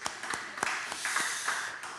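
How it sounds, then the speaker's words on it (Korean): A church congregation claps during a Sunday service. The claps are scattered and moderately close, a handful of separate hits over two seconds. "박수 한번 드릴까요?"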